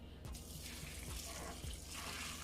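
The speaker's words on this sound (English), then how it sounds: "so now we're gonna pour some hot water." Hot water is poured over sea moss in a container, a steady close splashing and gurgling stream with a few heavier glugs over a couple of seconds.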